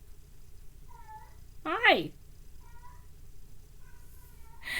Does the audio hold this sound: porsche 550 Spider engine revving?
no